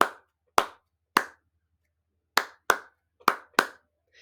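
Sharp single hand claps ring out alone in an improvised rhythm, spaced unevenly with pauses between them and then a quicker cluster of four, each crisp and close with a short room decay.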